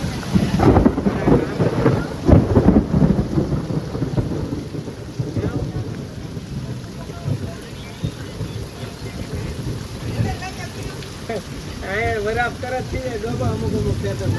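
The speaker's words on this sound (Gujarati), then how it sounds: "મિત્રો ફરી એક પાછો નવો કડાકો થાય સાંભળજો." Thunder keeps rumbling during heavy rain, with several loud, deep rolls over a continuous roar of falling rain. A voice talks briefly near the end.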